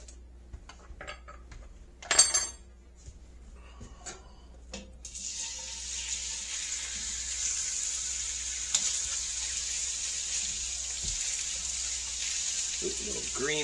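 After a few clinks and a clatter, a steady hot sizzle starts and continues, close and even, as chicken is dropped into a hot pan at mid-300s degrees.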